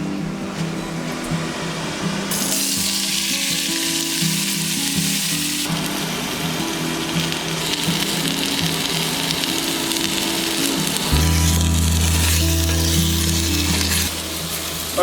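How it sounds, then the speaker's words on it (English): Chopped vegetables for a mallard duck gumbo sizzle and fry steadily in a pan, a loud continuous crackle with a deeper rumble joining near the end, and no voices. "our veggies are done frying too"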